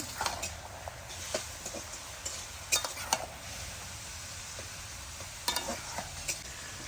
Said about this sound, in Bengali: আর দেবো আমি এখানে চেলা করা কাঁচা লঙ্কা ভালো করে কষাবো